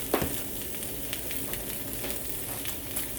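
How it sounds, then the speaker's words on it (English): Spam slices sizzle on a grill for Hawaiian musubi, a steady, close, dense crackle that holds evenly throughout, with a slight pop near the start. "So we'll let this grill a little bit, get a nice browning on both sides"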